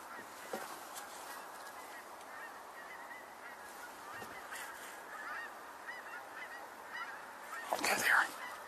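Geese honking overhead on an autumn outing, a steady distant chorus of calls running throughout with a louder, closer burst of honks near the end.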